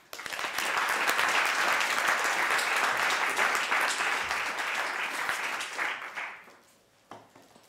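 A lecture audience applauds to welcome architect-lecturer Guillermo Banchini, a full, sustained round of clapping lasting about six seconds before tapering off into quiet.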